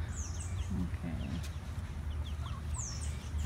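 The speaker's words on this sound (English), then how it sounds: "I've got three sets of chickens living together here." Several chickens cluck and murmur softly nearby in a chicken coop, with occasional higher chirps over a low steady hum.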